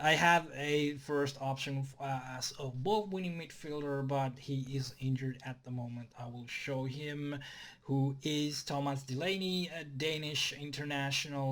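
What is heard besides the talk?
No distinct noise like a dog, phone or traffic.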